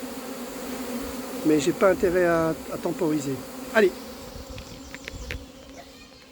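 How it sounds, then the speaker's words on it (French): Honeybees from a recovered swarm fanning on cardboard to call the rest of the colony, a steady close buzzing drone under a man's brief French speech and a few sharp knocks. "il y a des abeilles qui battent le rappel sur le carton"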